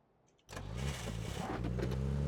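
After a quiet start a vehicle engine turns over and catches, rising abruptly into a loud, steady running roar that holds for the rest of the clip, with no talking.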